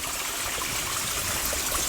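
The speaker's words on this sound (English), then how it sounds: "this series of pools and waterfalls, even down here" A stream pours through a series of small scooped-out pools and little waterfalls, a close, steady rushing splash with constant babbling and no voices.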